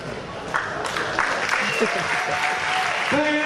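Crowd at an independent wrestling show applauding loudly and continuously, while an announcer's voice speaks over the clapping.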